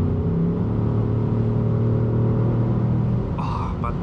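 Deep V8 rumble of a Ford Mustang GT heard from inside the cabin, a steady loud engine drone that eases off near the end as a voice speaks over it.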